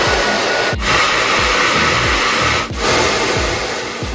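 A Feekaa anion hair dryer runs on speed 2 with warm air, giving a loud, steady close-up blowing roar with brief dips as the airflow is moved, and no voices.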